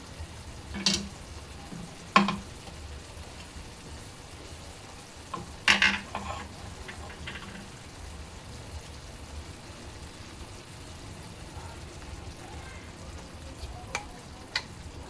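A pan of green masala chicken being stirred after ground coriander is added, with a few sharp scraping clatters from the spoon over a low steady sizzle, faint and close, with no talking.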